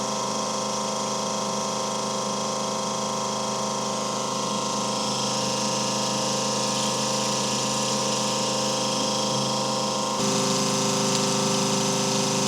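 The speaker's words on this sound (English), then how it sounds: "let's turn on our new pump." BreAro battery-powered transfer pump running at a grain tank on a farm, a steady close mechanical hum with a constant whine that shifts slightly in tone partway through.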